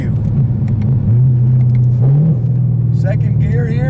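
A 2017 Camaro ZL1 pulls hard in second gear, its engine a loud, steady low drone that rises in pitch under acceleration, close to the microphone inside the cabin with no talk.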